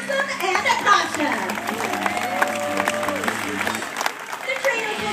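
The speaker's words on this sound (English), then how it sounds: "how about one big round of applause for Maxim and Akasha?" An audience applauds after a trained tiger show, a moderate crowd clapping and murmuring at a distance, mixed with children's voices and some talk.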